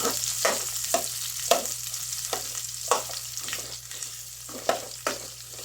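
Chopped onions fry in a pan for chicken sinigang, with a continuous hiss of sizzling broken by repeated sharp scrapes and clacks as a utensil stirs them, close and fairly loud.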